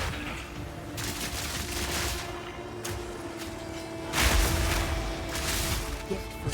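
Grenade explosions in the video game Path of Exile 2, a dense run of repeated booming blasts and crackling bursts layered over steady game noise, with several loud peaks.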